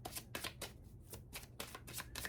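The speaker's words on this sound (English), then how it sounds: "I'll shuffle a little more." Tarot cards are riffled and shuffled in quick repeated bursts, close and crisp, with no voices.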